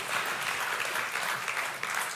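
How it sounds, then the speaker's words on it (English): A church congregation applauds, dense, steady clapping filling the room for a couple of seconds at moderate loudness, with no voices on top. "You can applaud God."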